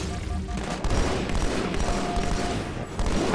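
Rapid continuous gunfire from Halo 2: Anniversary rattles through a dark level, loud and dense with sustained automatic bursts and no break across the whole stretch.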